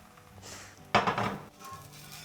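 A crêpe pan being twirled on a stovetop, giving a brief scraping clatter of metal that swells suddenly and then fades, heard close with no voices.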